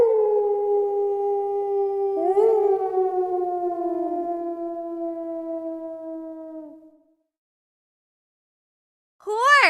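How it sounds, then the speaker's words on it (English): A wolf gives one long, sustained howl that slowly falls in pitch, with a brief upward break partway through, fading out before a short separate tonal sound at the end. "Wolf."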